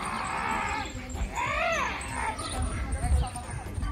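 A young autistic child screams and wails for attention, rising in a loud, wavering cry amid background chatter and thumps, with people talking nearby.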